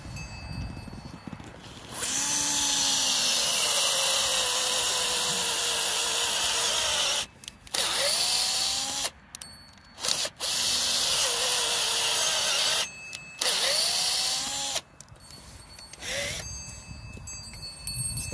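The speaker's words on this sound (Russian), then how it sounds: "Зажимается шуруповерт." Cordless screwdriver-drill with a bit boring holes while making cheap electric fence insulators from pipe offcuts: long loud whining runs of the motor, broken by short pauses and restarts, with the pitch sagging under load.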